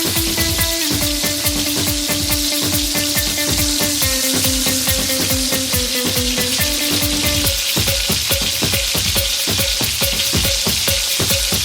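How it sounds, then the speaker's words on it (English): Crushed garlic sizzles and crackles loudly as it fries in a pot for spicy Swahili pilau, with steady stirring scrapes and a dense, continuous hiss throughout. "Next, add in your crushed garlic and keep stirring."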